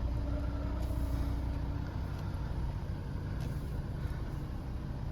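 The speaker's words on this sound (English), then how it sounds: "Just start the car up." A 2012-era Volvo XC60 2.4 D4 R-Design diesel with a manual gearbox runs with a steady, even engine drone throughout, and no distinct cranking burst stands out.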